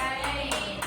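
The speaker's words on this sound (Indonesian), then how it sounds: "tepuk tangan buat Bu" Audience applause in a classroom or teacher-training session, a short dense burst of clapping hands that runs steadily through the whole moment, fairly loud and close.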